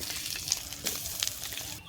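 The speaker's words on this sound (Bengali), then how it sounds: "এবার আমি কপিগুলোকে বেশ ভালো করে ভেজে নেব।" Cauliflower florets frying in a pan of hot oil give a steady, close hiss and crackle with small pops, continuous and fairly soft.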